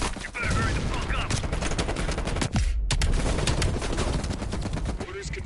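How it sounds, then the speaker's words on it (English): Sustained heavy machine gun fire in the Cold War campaign, a dense, loud, continuous rattle of rapid shots with a brief pause midway, filling the whole stretch without speech. "Heavy MG on the ridge."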